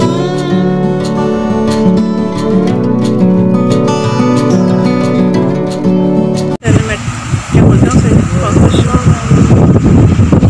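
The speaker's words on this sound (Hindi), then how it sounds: "इतनी तेज हवा चल रही है" Strong wind buffets the microphone with loud, gusty roaring on a mountain road through pine forest in Garhwal, following a stretch of steady tonal music; someone talks briefly.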